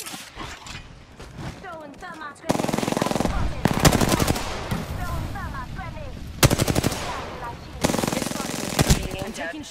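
Rapid automatic gunfire in the video game Apex Legends, several sustained bursts of fast rattling shots with brief gaps between them, mixed with game sounds and a player talking over the action.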